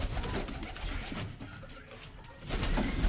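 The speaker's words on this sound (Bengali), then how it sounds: "এই দেখুন কবুতরের ডাক" Pigeons cooing in a loft where several pairs have laid eggs, soft low coos rising and falling at close range over quiet background noise.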